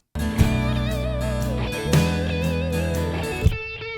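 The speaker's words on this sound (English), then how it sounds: "I added reverb, a bunch of reverb on it" Electric guitar chords ring out with heavy reverb, notes sustaining and blurring into a wash of echo before a long fading tail.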